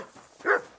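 A single short dog bark in the medieval role-playing game Kingdom Come: Deliverance 2, fairly faint and heard alone with no talk over it.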